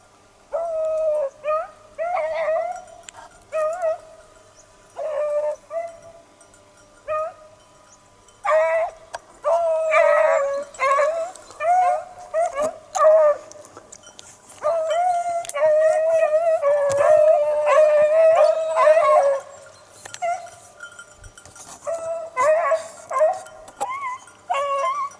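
A pack of beagle hunting dogs bays and howls continuously on a hunt, with overlapping yelps, drawn-out howls and barks from several dogs close by, coming in repeated waves.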